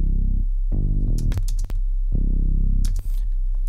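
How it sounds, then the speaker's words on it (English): Steady 33 Hz sine tone from a signal generator droning continuously under bass notes for an 808 kick, with plucked low bass notes and brief clicks sounding over the constant low hum, no talking. "So I'm going to open my signal generator, okay, this one right here, if you remember, and I'm going to change the frequency to 33"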